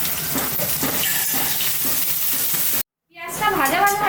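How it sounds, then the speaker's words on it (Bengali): Green chilli and onion sizzle in a frying pan over already-fried bitter gourd, a steady loud crackle with stirring; after a brief cut, a quick louder hiss and clink follow. "এর মধ্যে কাঁচা লঙ্কা আর পেঁয়াজটা দিয়ে দেবো।"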